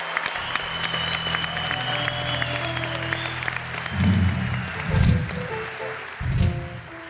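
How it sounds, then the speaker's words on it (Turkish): Studio audience of a Turkish TV talk show clapping for a guest, a moderate applause wash with tonal music or hum beneath and a few louder low bursts toward the end. "Jean-Claude Van Damme'a buradan bir alkış gönderelim az sonra."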